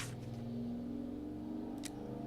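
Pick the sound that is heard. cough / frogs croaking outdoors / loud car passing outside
loud car passing outside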